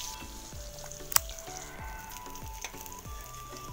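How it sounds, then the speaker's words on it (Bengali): Eggplant slices frying in a pan give a steady, low crackling sizzle throughout, with a single sharp metallic clink partway through. "তো আমার বেগুন ভাজা হয়ে গেছে।"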